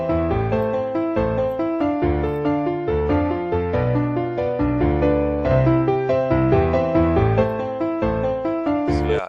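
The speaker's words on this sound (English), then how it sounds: "I usually use this on the bass sounds to make it a bit more distorted or harmonized" A bass sound run through the free Camel Crusher VST distortion plugin plays in a dense, rhythmic electronic music loop, with a steady pulse of thick, loud notes and no talking.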